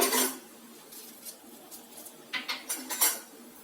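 A metal spoon scrapes and clinks against a pot of goat leg paya in a series of irregular stirring strokes, close and fairly quiet.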